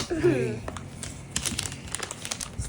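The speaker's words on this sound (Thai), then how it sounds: "น่าจะฉีกตรงเนี้ยไปเลย" Plastic packaging of a parcel holding an Amazfit Helio wrist strap is torn open, giving crisp crinkling and rustling bursts close by, with someone talking over them.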